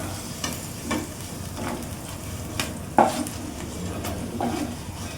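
Taro corms (kochur mukhi) frying in oil, a steady close sizzle with occasional stirring clinks and one sharp utensil knock midway.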